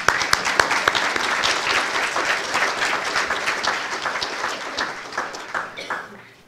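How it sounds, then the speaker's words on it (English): Audience applause at an awards ceremony, a dense, sustained crowd clapping that is loud at first and gradually thins and fades toward the end, with a few voices faintly mixed in. "join me in applauding her efforts"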